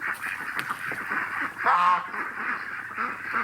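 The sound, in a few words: ducks quacking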